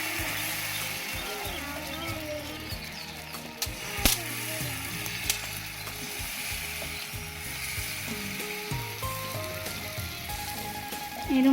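Batter for a patishapta crepe sizzles in a kadai, a steady soft frying hiss with occasional scraping and clinking of a spatula against the pan.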